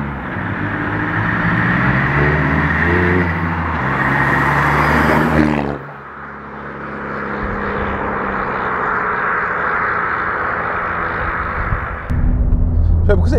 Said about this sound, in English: It's a very weird noise to expect from a diesel.